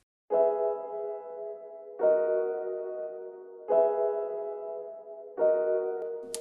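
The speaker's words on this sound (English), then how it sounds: "And then we have these bright pianos." Bright Arturia piano plays four loud, full chords spaced roughly evenly, each struck cleanly and left ringing to decay before the next, with no voices.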